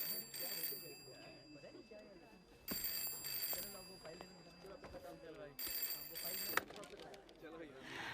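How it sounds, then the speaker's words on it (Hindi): An office telephone rings in repeated electronic bursts under ongoing conversation, sounding at moderate volume in a busy indoor room. "फोन बज रहा है तुम्हारा, उठाओ।"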